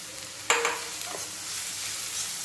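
A poha mixture is stirred in a hot pan, a scraping clatter of a spoon at first, then a steady sizzle and hiss, close and continuous.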